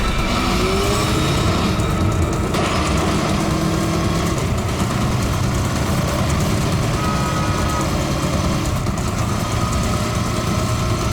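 A motorbike rides along with a loud, constant engine drone and road noise that never lets up, and no one speaks.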